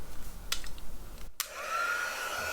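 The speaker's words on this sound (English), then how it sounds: "You never want to get your powders close to your heat machine." A heat embossing tool for craft card-making switches on partway through, a steady whooshing blower hum that settles into a continuous whine after a brief click and pause, close and fairly loud, with no talk.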